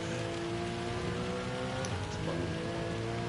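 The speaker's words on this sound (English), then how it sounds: "now it's cloudy and raining now" Steady rain falling in the racing video game Gran Turismo 7, a dense continuous hiss with a low car engine drone underneath, constant and moderately loud throughout.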